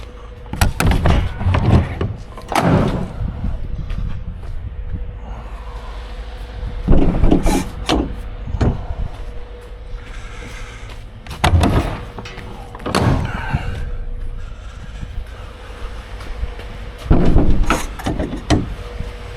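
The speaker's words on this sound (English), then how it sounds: "let's go and open the back door." The back door of a Scania delivery truck is opened in the dark early morning, with several loud metallic clunks, bangs and rattles spread across the span between quieter stretches.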